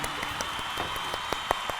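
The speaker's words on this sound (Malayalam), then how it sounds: "കൈയടിച്ച് പ്രോത്സാഹിപ്പിക്കൂ" An audience applauding a magic act on stage, a dense, steady wash of clapping with a few sharper individual claps standing out, filling the room without any voices on top.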